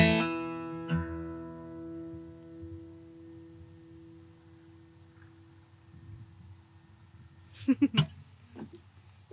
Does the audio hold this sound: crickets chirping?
yes